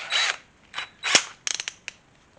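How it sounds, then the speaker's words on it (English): An electric drill spins briefly in short bursts while burnishing leather for a bandana slide, a few quick whirring runs with small clicks and taps between them, close and fairly quiet. "allows you to use that drill to burnish your leather"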